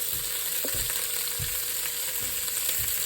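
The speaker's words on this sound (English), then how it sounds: "You fill your spoon with butter, come over here to the skillet, and get it in there." Steady bright sizzle of butter melting in a hot skillet for French toast, a continuous crackling hiss with a few soft low thumps underneath, no voices.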